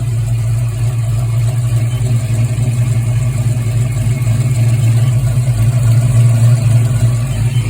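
A Ford Mustang Foxbody engine runs steadily, with a loud, constant low hum and drone close by and no talking. The car has a surging idle and is hard to start when warm.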